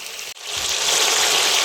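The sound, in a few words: fish frying in spiced oil in a pan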